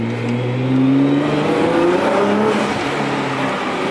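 A turbocharged Nissan R35 GT-R engine with a blow-off valve revs and holds its note loudly, with only a faint hint of turbo spool rising underneath; no one speaks.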